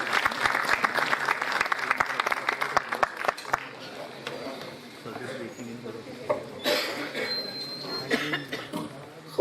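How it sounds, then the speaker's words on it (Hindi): An audience at an Urdu poetry mushaira in Bhopal applauds a poet, the clapping strong at first and then fading into murmurs and room noise. "और जोरदार तालियों से इस्तकबाल फरमाएं।"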